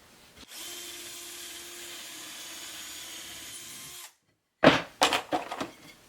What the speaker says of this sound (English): I'm going to drill some holes in here.